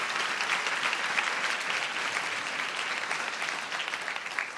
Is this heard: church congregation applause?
yes